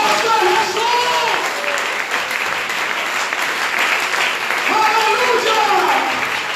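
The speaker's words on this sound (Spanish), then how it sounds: "¡El aplauso a Jesús!" A church congregation applauds steadily and loudly in praise of Jesus during a Spanish-language sermon, a dense wash of clapping that holds the whole time, with voices calling out over it.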